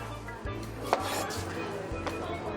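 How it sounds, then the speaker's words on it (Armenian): A knife chops garlic on a board in a few separate, close thuds spaced unevenly about half a second apart, over a low kitchen background hum. "մանր շերտերի կտրատենք սխտորը"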